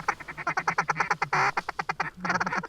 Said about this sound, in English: Ducks right up front.